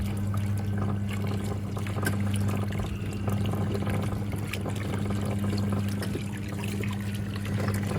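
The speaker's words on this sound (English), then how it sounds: "You see, there's a huge amount of water that comes through this." Water rushes through a National NA9450PN washing machine during a towel wash, a steady close pouring and trickling flow over a constant low motor hum, with no talk.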